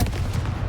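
The Confringo explosive spell goes off in Hogwarts Legacy, a brief, dense blast with a rumbling low boom.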